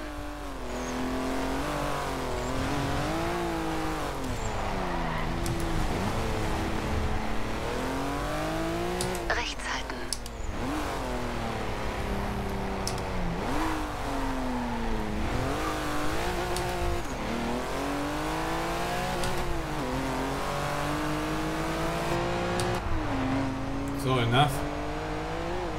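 A race car engine in the video game Forza Horizon 2 revs up and down repeatedly through gear shifts, loud and continuous, with a person talking over it at times and a German navigation voice.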